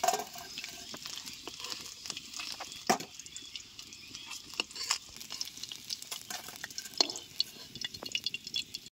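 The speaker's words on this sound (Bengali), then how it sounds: "মাছ ভাজা হচ্ছে" Fish frying in oil in an outdoor village kitchen gives a steady low sizzle with scattered crackles and spatters, a few sharper pops standing out, with no talking.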